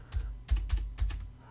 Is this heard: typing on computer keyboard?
yes